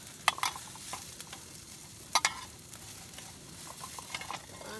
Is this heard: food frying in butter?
yes